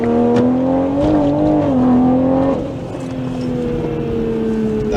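A 600+ hp Toyota MKV Supra accelerates hard in sport mode with traction control on, its engine note climbing in a steady rising drone, then easing to a lower sustained pitch partway through; loud and close, with no talk.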